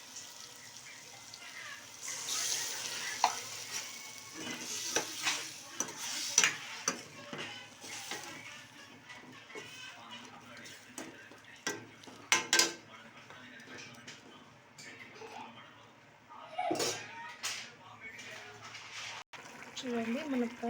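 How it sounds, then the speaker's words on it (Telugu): A drumstick and chicken curry with a glass of water added simmers in a pot, giving soft, quiet bubbling with occasional stirring clinks and scrapes, under a voice talking. "మునక్కాయలు బాగా ఉడుకుతున్నాయి"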